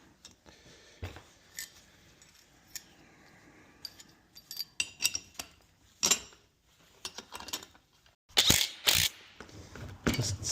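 Bolts on a field shredder are tightened by hand in scattered metallic clicks and ratcheting taps, quiet at first and then sharper and louder near the end, close by with no talking.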